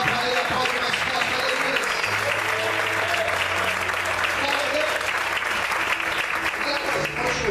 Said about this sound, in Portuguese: Se é para ele, aplaude mais forte